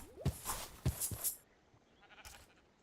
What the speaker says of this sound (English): there's some sheep we could bring to the fold